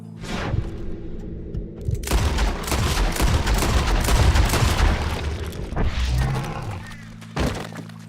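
Gunfire in Red Dead Redemption 2, a sharp shot followed by a dense burst of crashing, booming impacts and breaking sounds, then another lone bang near the end; a few faint voices underneath.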